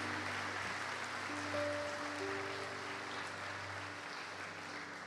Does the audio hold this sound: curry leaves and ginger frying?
no